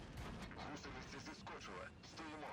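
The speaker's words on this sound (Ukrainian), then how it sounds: "Шкода викотується, ми з нею розмінюємося пострілами." Tank cannon shots exchanged during a World of Tanks Blitz battle, with a Chieftain/T95 trading fire against a Škoda; loud, repeated booming gunfire with battle noise continuing throughout.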